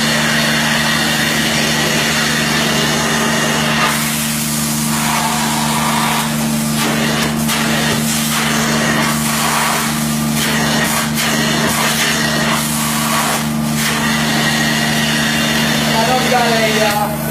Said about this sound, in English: we're ready to extract the fringe and clean it up, so let's extract it and let's see what it looks like